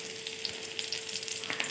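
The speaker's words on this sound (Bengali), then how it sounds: "এবার কড়াইয়ে তেল দিলেন তাতে একটা পেঁয়াজ ভেজে দিলেন সাথে সাত আটটা কোয়া রসুন" Onion and seven or eight garlic cloves fry in oil in a wok, giving a faint, steady sizzle with scattered light crackles and a low hum underneath.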